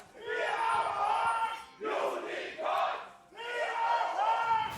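Loud, roaring bursts of chanting and cheering from Splyce and Unicorns of Love fans in an esports arena at a League of Legends match, surging in three long waves with short gaps between.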